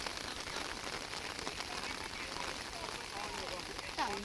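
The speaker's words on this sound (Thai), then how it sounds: "บรรยากาศ ฝนก็ยังตกเรื่อยๆเนาะ" Steady rain falls during a flood, a close, even hiss that continues unbroken for about four seconds.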